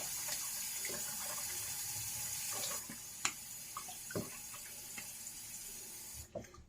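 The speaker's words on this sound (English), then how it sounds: "I'm gonna rinse off my face here." A sink faucet runs in a steady wash of water while someone rinses their face, with scattered close splashes and drips, before the flow stops near the end.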